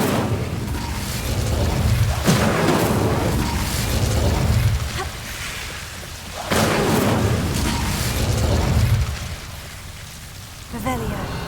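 Incendio fire spells cast in Hogwarts Legacy, a series of loud whooshing, crackling bursts in repeated waves over game ambience, with spoken voice lines between the casts.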